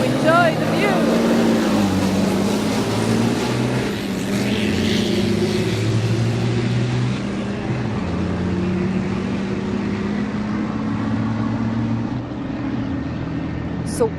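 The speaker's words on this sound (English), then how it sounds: "Here is the noise that the trucks are making." Rally trucks at the start of the Morocco Desert Challenge desert race, loud engine drone with shifting pitch as the trucks rev and pull away, continuous and close throughout.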